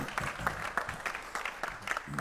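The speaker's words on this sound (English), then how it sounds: "give them a big round of applause" Applause from a political debate audience in Kings County greets the candidates, a brief spell of clapping in the room with a voice speaking over it.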